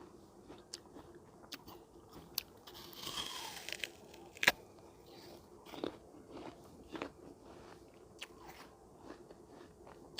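Crispy fried fish with berry sauce being bitten and chewed: faint close crunches and crackles scattered through the clip, one sharper snap near the middle, over a quiet background.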